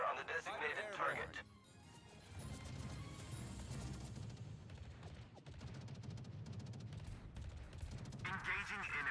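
Warship guns in World of Warships fire in heavy, crashing volleys through a dense battle din, with short spoken game voice lines at the start and end.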